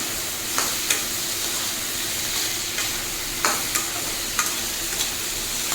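Cut potatoes stirred into a pan with frying fish head for a Bengali muro ghonto with snake gourd: steady loud sizzle throughout, broken by a handful of sharp spatula scrapes and clinks against the pan.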